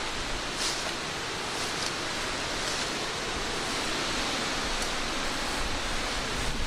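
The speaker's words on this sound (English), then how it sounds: "wind really picked up now. Oh, you hear it blowing through the trees in the background" Wind rushes steadily through trees along an old railway line, a constant broad hiss with slight gusting swells and no voices.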